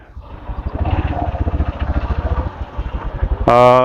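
A motorcycle engine idles with a steady low throb, close by in a long traffic jam, then revs up into a rising whine at the end.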